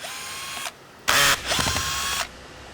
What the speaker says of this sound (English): I'm going to take the screws out of this trim ring and set these to the side.